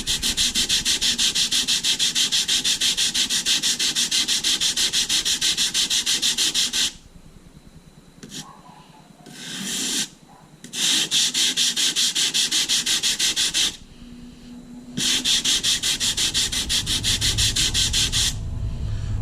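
A composite surfboard fin block being sanded to form a profiled facet, giving a loud, steady abrasive rasp in long strokes with two brief pauses partway through.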